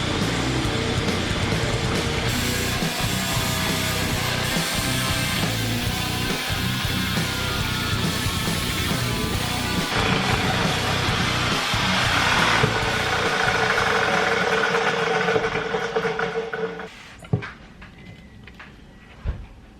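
A Sawzall reciprocating saw cuts through a polished cube of compressed aluminum foil, a loud harsh buzzing rasp that runs continuously for about seventeen seconds before stopping abruptly, followed by a couple of faint knocks.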